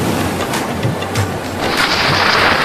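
Heavy rain pours in a thunderstorm, a loud dense hiss of water that swells partway through, with low rumbling beneath, no talk.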